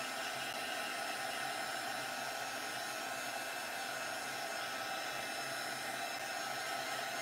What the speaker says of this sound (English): So now I'm just going to start drying this.